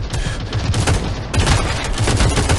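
Rapid bursts of automatic gunfire in the mobile shooter game Modern Strike Online, loud and dense with heavy repeated reports that roll together into a continuous barrage.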